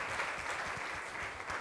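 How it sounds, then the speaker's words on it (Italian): A TV studio audience at a live band contest applauds the group as it walks on, a continuous wash of clapping at moderate volume with no break. "Un grande applauso per loro."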